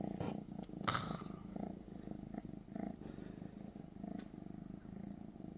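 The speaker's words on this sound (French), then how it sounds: "Et là il ronron." A soft-furred house cat purring close by near a cat tree, a low continuous rhythmic rumble with a brief rustle of handling early on, no voices.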